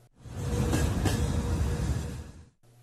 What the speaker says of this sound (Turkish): Çin'e giden ikinci ihracat treni yola çıktı.